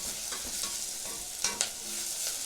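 Onions fry in a little oil in a cooking pot, a steady close sizzle with a few brief scraping stirs partway through.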